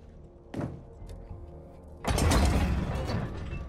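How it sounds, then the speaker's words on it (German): A motorboat engine in the Battlefield 1 campaign cranks with a short mechanical rattle, then catches and sputters into a loud, rough broadband roar that keeps running. "Edwards, starte den Motor."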